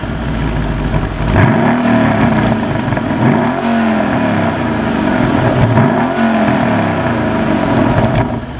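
A Mercedes E63 AMG wagon revs hard, its exhaust rising and falling in several loud, close blips with a deep growl between each burst.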